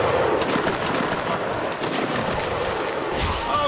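Musket-armed troops firing at will in the Mount & Blade video game, a dense continuous crackle of overlapping shots and bangs, loud and steady throughout with no gaps.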